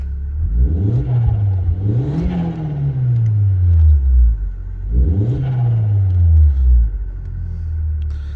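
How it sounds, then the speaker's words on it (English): A 2002 VW Golf Mk4 GTI 1.8 turbo engine is revved several times while parked, each rev rising sharply in pitch then falling back to a deep, rumbling idle, close by. "I'm going to give it a very quick rev now for you to hear."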